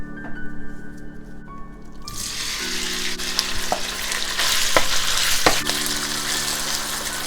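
Beef hits hot oil in a wok over high heat and breaks into a loud, sustained sizzle with crackling spits and occasional clattering stirs, close and alone.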